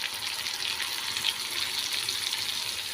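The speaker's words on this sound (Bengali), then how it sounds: "সামান্য পরিমাণে জল দিয়ে দিলাম।" A small amount of water is poured into a frying ghugni spice mixture of chopped tomato, cumin, turmeric and chili powder, producing a steady, close hissing splash that lasts throughout.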